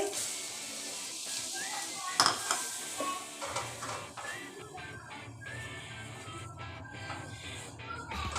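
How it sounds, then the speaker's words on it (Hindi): Butter melts in a pan for Alfredo creamy chicken pasta, giving a steady soft sizzle with occasional stirring scrapes and light metal clinks, close and moderately quiet. "ये बटर मैंने इसमें डाल दिया, ये मेल्ट हो जाएगा।"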